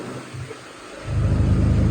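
Heavy rain pours steadily while a deep thunder rumble swells in partway through, low and loud beneath the hiss of the downpour.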